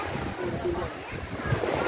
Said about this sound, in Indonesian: menikmati deburan ombak yang sementara